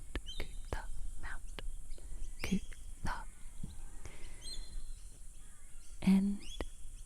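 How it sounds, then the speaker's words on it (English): Birds calling at Mount Coot-tha, a scattering of short chirps and whistles, some near and some farther off, over a faint steady cicada-like hiss, with soft whispered speech in between. "that's why you can hear a lot of bird sounds. It's very birdy around here"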